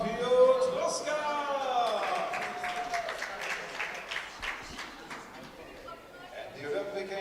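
An arena crowd applauds for a Polish air rifle shooter being introduced before a 10m air rifle solo medal match, steady clapping running under an announcer's voice throughout.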